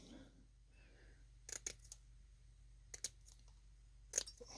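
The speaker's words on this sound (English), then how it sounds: "You can cut it with scissors" Scissors snip through stainless steel mesh in three short, close clusters of crisp cuts separated by pauses over a low, quiet background hum.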